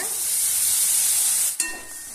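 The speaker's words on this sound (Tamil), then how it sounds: "சேர்த்துட்டு நல்லா கிளறி விட்டுக்கலாங்க." A steady, bright hiss of jaggery dissolving in water in a hot pan, broken near the end by a single short scrape of stirring.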